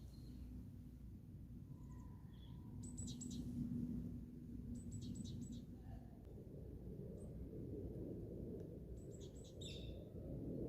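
Small birds chirp and trill in short bursts in the Jardin des Plantes in Montpellier, their calls fairly distant over a steady low hum of park ambience with murmuring voices.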